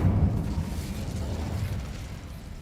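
The Incendio fire spell cast in Hogwarts Legacy: a low, rumbling whoosh of flame that bursts at the start and then fades away over a couple of seconds, heard alone.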